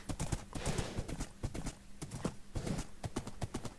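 A horse's hooves clip-clop steadily as it is ridden in Minecraft, an even, quick rhythm of close, crisp thuds that continues throughout.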